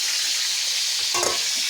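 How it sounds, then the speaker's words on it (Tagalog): Freshly caught fish fries in a pan with a loud, steady hiss of hot oil and a brief clatter of stirring about two-thirds of the way through. "Prito kami."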